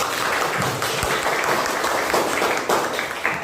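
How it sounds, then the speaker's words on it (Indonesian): A classroom audience gives a round of applause for group 2 after their answer to group 5 in a teacher's performance-test lesson: dense, steady clapping from many hands that fills the room for several seconds. "Yuk, kasih aplaus semuanya"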